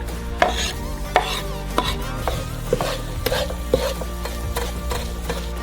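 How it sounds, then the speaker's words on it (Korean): Onions sauté in an oiled frying pan on a gas stove, a soft sizzle under repeated scraping and tapping of a utensil against the pan in an irregular rhythm, close up. "양파를 볶아줘요."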